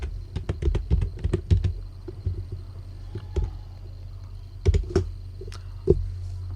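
Keys clack in quick irregular bursts on a computer keyboard as C code is typed, with sharp close clicks separated by short pauses.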